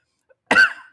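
A single short, harsh cough close to the microphone after near silence, at a live country music podcast gathering in Nashville.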